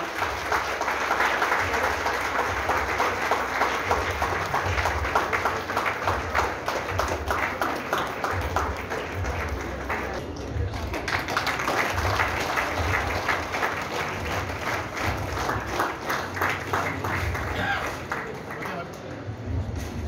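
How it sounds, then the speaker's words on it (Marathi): Sustained applause from a crowd at a Jaytutsav celebration in Priol, Goa: dense, even clapping that stays loud throughout, with voices mixed in. "मागचा टाळ्यांचा आवाज थांबला नाही ना"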